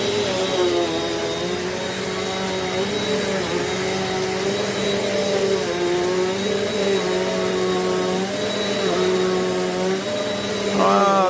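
A Eureka NEU10AE4 bagless upright vacuum cleaner runs steadily on carpet, its motor a loud continuous drone with a high whine that shifts slightly in pitch as it is pushed back and forth.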